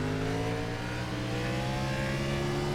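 Stock car engine accelerating onto the straight at Brands Hatch during a race, a loud steady mid-pitched drone that climbs gradually in pitch, heard alone without talk.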